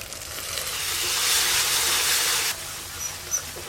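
A paste of ground cashew, poppy seed and melon seed fries in a pan after going in over softened tomatoes, giving a steady loud sizzle that drops off partway, followed by faint clinks.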